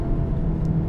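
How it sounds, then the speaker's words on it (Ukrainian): A CUPRA Leon hatchback's 300-horsepower engine runs in Cupra mode while driving, a steady low rumble heard alone and fairly loud for under a second. "Послухайте, як звучить мотор."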